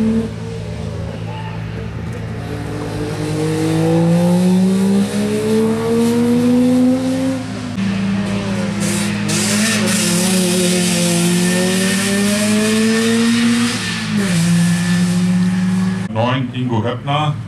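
Engine of a Mercedes 230E W123 rally car at a rally event, loud and sustained with rising and falling revs, under continuous commentary talk.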